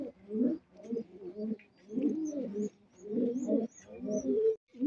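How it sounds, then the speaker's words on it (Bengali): Local Golla pigeons in a Bangladeshi pigeon loft cooing in repeated rounded bursts with short pauses between, close and clear, with faint chirps above. "আর মাদিটা হচ্ছে আমাদের দেশীয় গোল্লা কবুতর"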